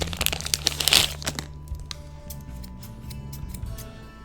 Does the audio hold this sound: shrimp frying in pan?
no